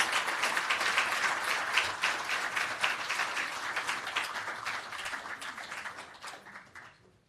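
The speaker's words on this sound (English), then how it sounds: "please give the Global Fund for Children a big round of applause" An audience gives a round of applause for the Global Fund for Children at a climate-change and child-development event, steady dense clapping that gradually tapers and fades over about seven seconds.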